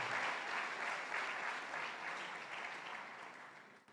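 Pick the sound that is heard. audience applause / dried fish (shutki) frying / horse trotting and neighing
audience applause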